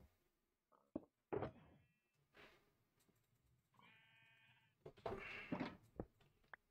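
Sheep in Minecraft bleat in a few short, quiet calls, separated by gaps, with a couple of soft knocking clicks from the game.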